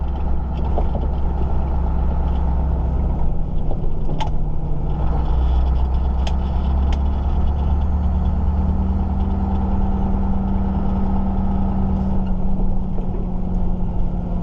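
A Scania 143 truck engine drones with a deep, steady roar as the truck drives off, loud and close throughout, with a few faint clicks and knocks on top.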